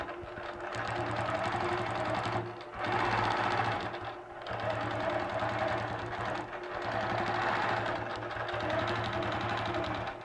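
Sewing machine quilting the bottom half of a star motif, running steadily and fairly loud for several seconds, with brief pauses and slight changes in speed.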